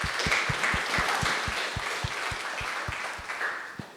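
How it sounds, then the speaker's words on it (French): An audience at a café talk event claps in an even, brisk rhythm, a close and moderately loud run of beats over a light bed of scattered handclaps. "On peut l'applaudir."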